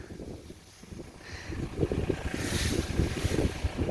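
Gusty wind buffets the microphone, a low rumbling roar that swells and surges continuously, loud and close, with no voices.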